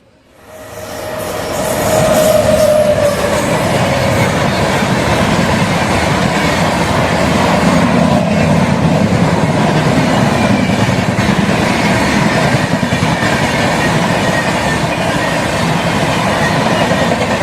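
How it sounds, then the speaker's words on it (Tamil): The Patna–Ernakulam express train passes close by during an overtaking, a loud, sustained roar of rolling wheels and rail clatter that builds quickly and holds steady throughout. "பாட்னா எர்ணாகுளம் ட்ரெயின் தான் இப்போ கிராஸ் ஆச்சு."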